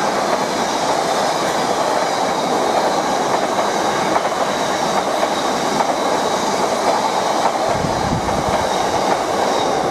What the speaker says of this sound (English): Right, we've now got a through train coming towards Needham Market Station.